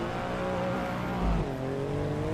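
Race car engine in a racing video game at a sustained high drone, loud and close, with a brief low thump and a slight pitch drop partway through.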